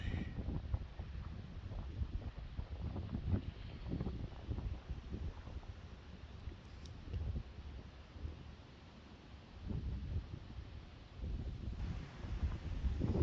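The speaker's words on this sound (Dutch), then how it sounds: "En het waait het" Steady low wind gusting and buffeting across the microphone, rising and falling in waves, with faint rustling underneath and no voices.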